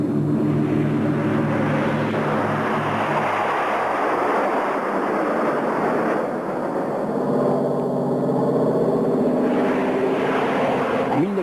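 Private aircraft at Le Touquet airfield, a loud, steady engine drone that holds unbroken and shifts slightly in pitch, with no talk.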